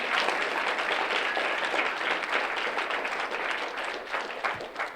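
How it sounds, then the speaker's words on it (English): Audience applause at an MLK diversity address, a dense steady wash of clapping from a sizeable crowd that carries on evenly for the whole stretch with no voices over it. "can we just applaud?"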